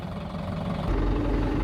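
Tractor engine idling from inside the cab, a loud, steady low rumble with a slight knocking pulse that grows heavier partway through.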